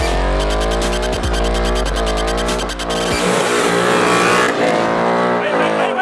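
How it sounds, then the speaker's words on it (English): A 2018 Ford Mustang GT doing a burnout, its engine roaring loudly and revving in rising and falling sweeps, mixed with pounding music throughout. "Cue burnout."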